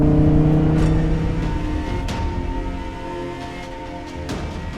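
A Lamborghini Huracan Tecnica driven in Sport mode hums with a steady engine note inside the cabin, moderately loud and gradually easing off, with no talk over it.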